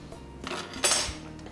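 Fish stew stirred in a pan, metal utensil scraping and clinking against the pan with a brief louder scrape in the middle, a low sizzle underneath and no voices.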